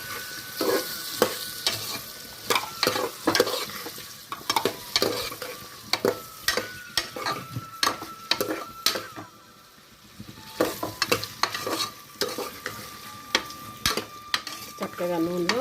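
Carrot and potato pieces frying in oil in a pan, rapid repeated scraping and clattering of a spoon stirring over a constant sizzle, close and lively with a short lull midway.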